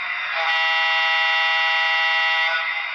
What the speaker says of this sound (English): That's that air horn